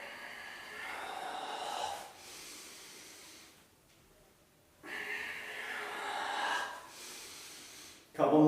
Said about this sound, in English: I push it out while contracting my belly. Inhale, exhale.